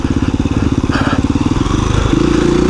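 A KTM dirt bike engine runs loud and close in rapid, throbbing pulses, its pitch dropping and settling into a steadier, lower chug partway through.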